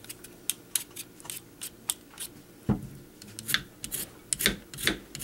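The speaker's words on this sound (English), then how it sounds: "Once you cut the skin off, it'll be a lot easier to make your potato chips." A knife pares the skin from a raw potato with short, quiet scraping strokes in an irregular rhythm, close up, followed by a duller cut near the middle.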